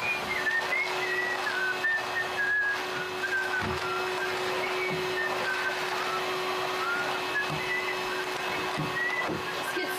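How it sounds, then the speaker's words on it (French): A person whistles a wandering melody over a steady mechanical hum, with a few soft thumps in the background. "Je siffle."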